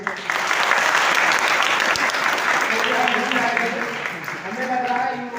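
A college audience in Bahraich breaks into sustained clapping for the students, a dense steady roar of many hands that fades slightly as a voice starts speaking over it.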